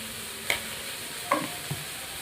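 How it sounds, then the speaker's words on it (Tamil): Okra sautéed in a pan with garlic, chili powder and salt gives off a steady, moderate sizzle, broken by three short scraping clicks of a spatula stirring the vegetables, with no talking. "மிளகாத்தூள் கொஞ்சமாக சேர்த்து உப்பு சேர்த்து வதக்க போகிறேன்."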